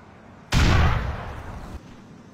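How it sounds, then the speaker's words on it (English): A single loud, sudden explosion from the video game GTA 4 booms close by, then rumbles and decays for over a second before cutting off. "If an explosion happens near a vehicle in GTA 4, the windows will be destroyed by the blast"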